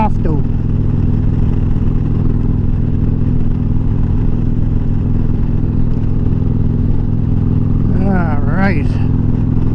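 A motorcycle engine drones loudly and steadily throughout a ride at Brownsville State Park, with a rider's voice heard briefly near the end.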